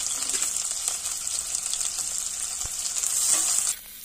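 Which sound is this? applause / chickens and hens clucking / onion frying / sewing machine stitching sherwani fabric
onion frying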